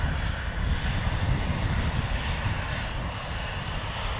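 A Ryanair airliner slowly vacating the runway at Manchester Airport gives a steady, loud engine roar that holds even throughout, with no talking over it.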